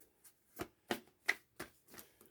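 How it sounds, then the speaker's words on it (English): Tarot cards being shuffled by hand, a series of soft, separate riffling bursts about every third of a second, close and fairly quiet against near silence. "just fast forward if it's shuffling too much"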